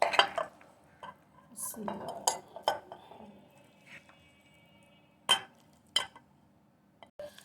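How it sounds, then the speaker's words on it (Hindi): Chana chaat being spooned from a pot into a serving dish, with a run of clinks and scrapes of cutlery against the dishes, separate knocks spaced through the clip, close and fairly quiet, with faint background noise. "अब मैं इसे डिश में निकालती हूँ।"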